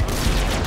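A steel cannonball cannon fires in an animated battle show, a brief dense blast of explosive booming that fills the whole moment at high volume.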